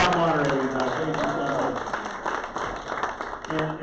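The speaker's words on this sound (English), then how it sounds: "And one more applause for Doug Ma." A Rotary club weekly meeting audience applauds its moderator, a loose, moderate clapping that runs under a speaker's amplified voice in an indoor meeting room.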